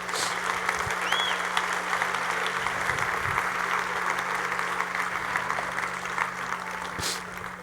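A church congregation applauds during a worship service, a steady, moderately loud wash of clapping from many people, with a constant electrical hum beneath it.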